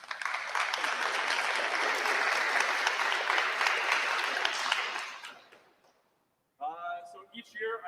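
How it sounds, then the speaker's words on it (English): A school band audience gives steady, full applause for about five seconds; the clapping fades out, and after a short silence someone starts talking. "So give them a round of applause."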